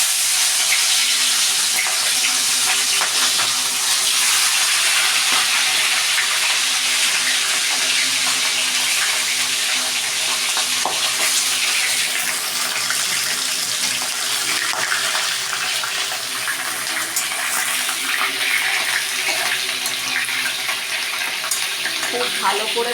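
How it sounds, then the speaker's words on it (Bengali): Fish heads rubbed with salt and turmeric fry in hot oil in a wok, making a loud, continuous, close sizzle that barely changes throughout, with a faint voice in the background. "এবারে মাছের মাথাগুলোকে ভেজে নেব, নুন হলুদ মাখিয়ে মাছের মাথাগুলোকে ভেজে নেব।"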